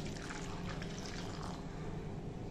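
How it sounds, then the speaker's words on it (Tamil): Hot water poured over paneer in a bowl while making paneer gravy in a home kitchen: a continuous splashing, hissing stream of liquid heard close up, with no talk. "இப்போ சுடுதண்ணி இதில் கொஞ்சம் ஊற்றிக்கணும்."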